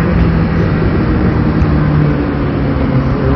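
Steady, loud roar of Mumbai road traffic with engine rumble filling the whole stretch, no distinct passes standing out.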